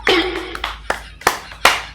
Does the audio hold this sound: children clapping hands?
yes